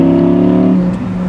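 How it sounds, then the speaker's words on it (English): Supercar engine held at a steady loud rumble with gentle blips of the revs, a close, continuous low note that eases off slightly toward the end. "one of the most addicting things to do is just slightly play with the revs"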